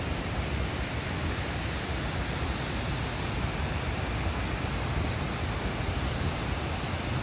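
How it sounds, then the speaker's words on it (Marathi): A small waterfall at Jaldar pours from above in a continuous, even rush of water, a dense hiss that holds steady throughout with no voices. "हा छोटा धबधबा आपण छान आहे बघा, वरतून खाली कसा वाहतोय"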